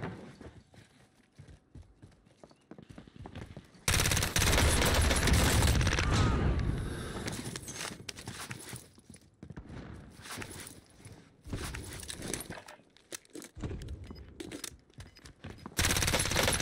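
CX9 submachine gun firing rapidly in a video game, loud dense bursts of automatic fire in several separate strings with quieter gaps of game ambience between them.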